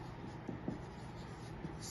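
Marker or chalk writing math steps on a board during a ninth-grade maths lesson, a faint scratchy stroke sound with a few light taps, steady and quiet, no voice over it.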